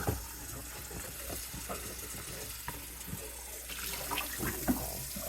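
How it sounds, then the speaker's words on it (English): Running water from a kitchen sink tap splashes steadily as a container is rinsed out while plants are being tended, with faint clinks and knocks of handling throughout and no talking. "I'm just rinsing this out"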